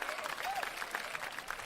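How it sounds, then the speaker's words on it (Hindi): Applause from an audience at a Hindi comedy poetry gathering, a steady dense patter of claps with faint crowd murmur and some voices running underneath throughout. "तालियां"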